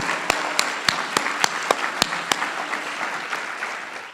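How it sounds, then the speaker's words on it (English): Audience applauding presenters at the close of a sustainability summit plenary, a steady wash of clapping from a large crowd with a few sharper individual claps standing out near the front. "Can we please give all our presenters another round of applause?"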